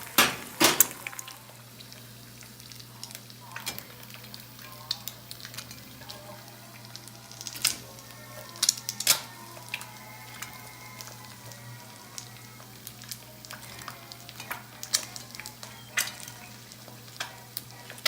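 Eggs frying over easy in a pan give a soft, steady sizzle, with sharp utensil clicks and scrapes scattered throughout, and no voices.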